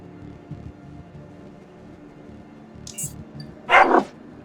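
Dogs in the Underrail video game bark a few times, a short burst of sharp, loud yelps near the end after a quieter stretch of low game sounds.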